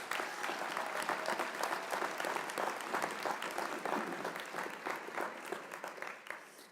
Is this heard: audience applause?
yes